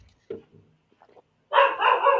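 A dog barks loudly and close in a home, a burst of sustained barking after a few faint knocks and rustles, reacting as though someone were knocking at the door.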